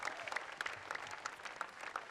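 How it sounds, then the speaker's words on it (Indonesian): A studio audience on a comedy talent-show broadcast applauds contestant number 53, with a continuous, fairly faint wash of many hands clapping and no speech over it. "Yuk, tepuk tangan untuk nomor 53."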